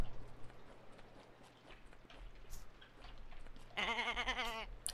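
Sheep bleating in the farming video game Summer in Mara, a single wavering bleat rising clearly near the end over a quiet ambient game background.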